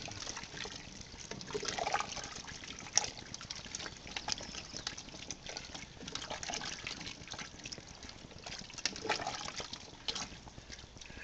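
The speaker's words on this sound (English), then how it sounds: "We're going to stir all this up." Chicken stew ingredients stirred in a pot make a continuous wet, sloshing churn with liquid gurgles and soft scrapes, close and steady at moderate volume with no talking.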